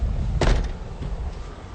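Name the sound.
knocking on a door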